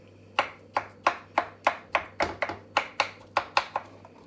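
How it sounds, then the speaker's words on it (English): A knife chops avocado on a board in about fourteen crisp, evenly spaced strokes, steady and close, with no voices over them. "chop that up"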